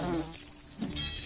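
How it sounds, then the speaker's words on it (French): An insect buzz, from a wasp in the Lords of Xulima video game, drones close by in a short, wavering whine that dips briefly and returns, heard alone with no voices. "D'ailleurs Valérie, t'as réussi à toucher une guêpe avec ton fléau."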